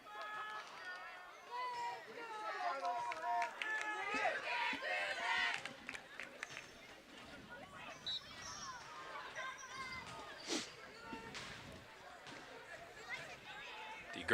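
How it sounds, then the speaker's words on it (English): Girls JV soccer team cheering and shouting from the stands at a night varsity boys soccer match, a steady crowd roar with raised voices that swells in the early seconds, carried under a commentator's running talk. "Girls JV soccer team in the stands making a lot of noise, trying to cheer the boys on here tonight."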